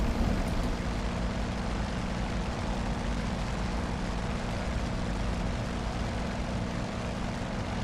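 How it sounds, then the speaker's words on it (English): A warplane takes off in the flight game Aces of the Pacific, its propeller engine giving a loud, continuous, unbroken drone from start to finish. "She still takes off like a champ."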